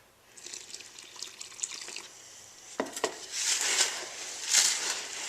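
Water trickles and splashes into a container of dry refractory mortar mix, soft intermittent pouring sounds that build into a louder, hissing stream near the end, close by with no talking.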